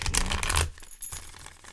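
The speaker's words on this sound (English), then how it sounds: "I pre-shuffled the cards, but I'm just going to shuffle them just a little bit more" A quick riffle of tarot cards being shuffled, a dense papery flutter for about half a second, then softer scattered card taps.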